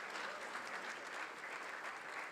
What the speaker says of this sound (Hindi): कीजिए जोरदार तालियों के साथ।